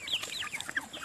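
Chickens clucking in short, bright bursts, several overlapping calls close by with steady low background noise.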